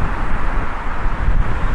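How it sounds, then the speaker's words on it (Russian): Strong wind buffets a microphone outdoors on a street in Baku, a loud, continuous low rumbling roar with uneven gusty surges. "Ох, ветер, надеюсь, микрофон поглощает."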